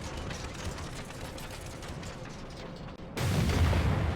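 Boss machine blowing apart in a Final Fantasy XIV Alexander battle, a rumbling crackle of blasts that swells abruptly into a louder, denser explosion near the end.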